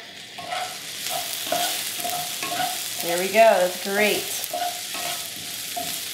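Sausage and peppers sizzle and crackle steadily in a hot pan while being stirred, with a person speaking briefly over the frying.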